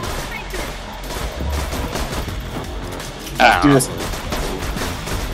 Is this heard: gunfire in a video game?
yes